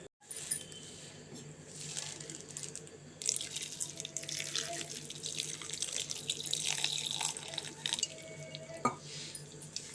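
A kitchen tap running water, a continuous close hiss that swells and shifts as the flow changes, with light clinks and a few drips, no talk.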